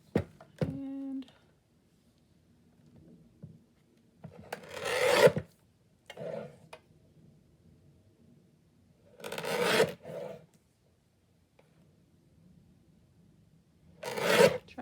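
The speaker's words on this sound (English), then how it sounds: "I'm going to bring up my cutter. We're going to trim these down." A cutter trims laminated pieces in several short rasping strokes, each a brief scraping burst separated by quiet gaps, with a few faint taps and handling noises between them.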